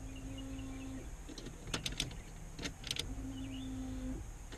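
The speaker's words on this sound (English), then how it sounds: "I can hear the pump." Fuel pump in an '87–'91 Ford F-Series truck primes as the key cycles, a faint steady electric hum that runs, stops, and starts again, with a few brief clicks and rattles in between.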